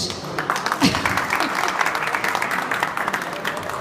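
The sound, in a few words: audience applause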